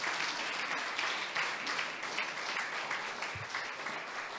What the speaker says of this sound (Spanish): Dele su mejor aplauso al Señor esta mañana.